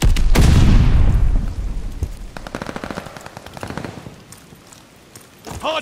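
A burst of heavy gunfire and an explosion at a hardpoint in a video game, loud and close, then rapid machine-gun rattles continuing at a lower level.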